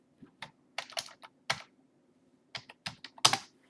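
Quick irregular bursts of keystrokes on a computer keyboard, close and crisp, in short clusters separated by brief pauses in a quiet room.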